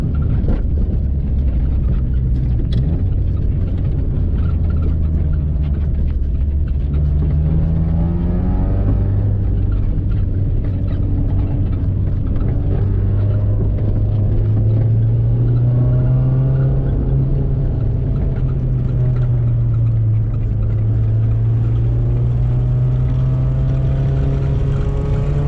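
Honda Civic wagon with all-wheel drive running on Hankook winter tires along a rural road, its engine a steady low drone that rises in pitch as it accelerates, with continuous road and tire rumble throughout and no talking.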